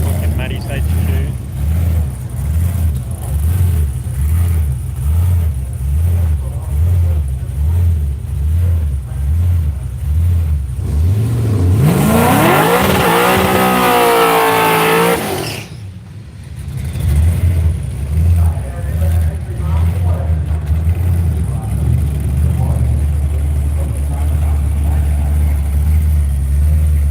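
A drag racing car with a deep rumbling engine idles in a steady pulsing loop, then revs sharply for a few seconds to a rising roar, cuts off abruptly and settles back to idle, with commentary talk running over it.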